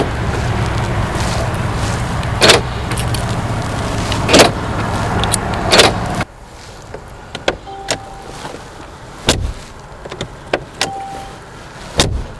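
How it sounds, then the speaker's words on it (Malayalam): A 2020 Mercedes G63 AMG door shuts with a solid thud partway through a steady car and motor hum, followed by a quieter stretch with a few faint clicks and knocks. "ആ ഒരു ഡോർ അടയ്ക്കുന്ന ഒരു സൗണ്ടുമാണ്"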